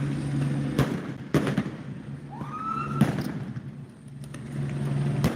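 Flashbangs bursting at a street protest, several sharp booming cracks at irregular intervals over a constant crowd and traffic hum, with a whistling streak between them.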